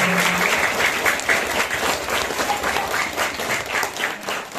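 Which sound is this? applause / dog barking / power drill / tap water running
applause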